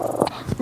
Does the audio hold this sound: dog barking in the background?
yes